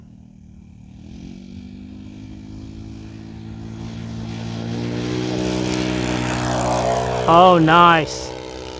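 An RC Great Planes JU-87 Stuka model plane with an OS 91 glow engine taxis out, its steady propeller drone rising gradually in pitch and loudness. A person briefly speaks near the end over a sharp whine.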